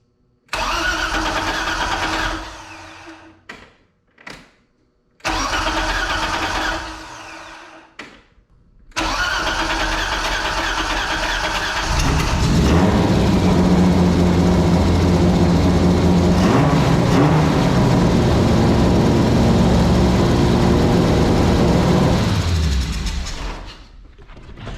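BMW E30 engine fitted with individual throttle bodies firing up for the first time: a few short cranking attempts broken by silence, then it catches and settles into a loud, steady, slightly lumpy idle nearby before cutting off.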